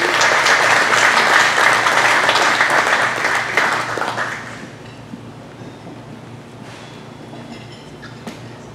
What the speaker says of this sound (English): please give a round of applause to Robert Mays Jr